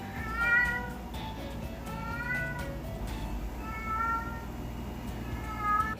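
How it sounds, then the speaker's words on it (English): A cat carrying a toy meows repeatedly, several drawn-out, rising and falling cries spaced a second or so apart, fairly close over a low background hum. "he will carry that thing around and just meow nonstop"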